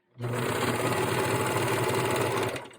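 A sewing machine runs a single continuous burst of rapid stitching through boyshort underwear fabric and lining, its fast mechanical whir starting and stopping cleanly, close and fairly quiet.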